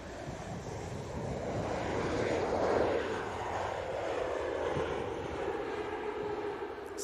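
A Ryanair airliner lands at Manchester Airport, its engine roar swelling broad and distant to a peak midway before easing into a steady rush, with wind noise on the microphone and no talk.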